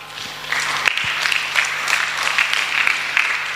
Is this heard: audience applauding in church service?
yes